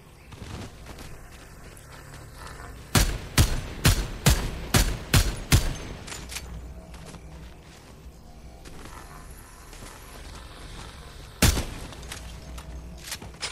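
Turret gunfire in Fortnite Chapter 4 Season 4: a rapid burst of about eight loud, sharp shots over roughly three seconds, then a quieter stretch with game ambience and one more heavy shot near the end.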